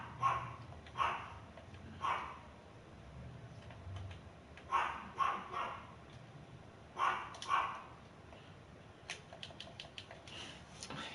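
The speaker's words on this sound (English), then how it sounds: "I hate when my little dog starts barking like that" Small dog barking indoors in short sharp bursts of two or three yaps, spaced across the clip, fairly faint, with keyboard clicks toward the end.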